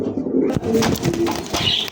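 Blue Bar Beauty pigeons cooing close by, a steady run of soft, low throaty coos that overlap one another for the whole stretch, with no talk.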